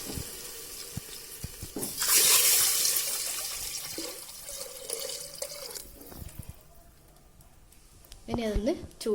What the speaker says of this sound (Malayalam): അപ്പോൾ അതിന് കണക്കായിട്ട് 9 ഗ്ലാസ് വെള്ളം ഒഴിക്കാം.